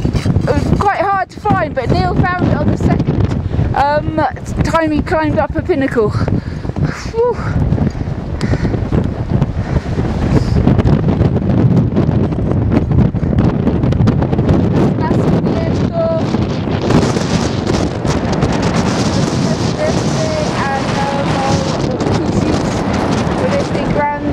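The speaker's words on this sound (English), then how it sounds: "Very windy up here." Strong wind on a mountain summit at 6,684 m buffets the microphone in a constant roaring rush, with someone talking over it at first.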